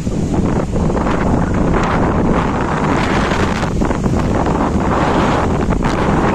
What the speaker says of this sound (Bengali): মানে বিশাল জোরে হাওয়া দিচ্ছে